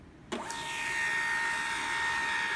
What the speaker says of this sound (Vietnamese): Sau đó cái máy in sẽ in ra cái địa chỉ IP của máy và cái địa chỉ gateway